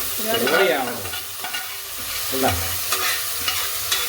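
Onions are stir-fried in a pan with a kitchen utensil, giving a steady sizzle broken by several scraping, clattering stirs, close and moderately loud with no talking.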